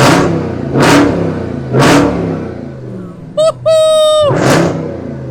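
A 2018 Jeep Grand Cherokee Trackhawk engine revs in three loud, close blips, followed by a brief high whine and a final sharp rev.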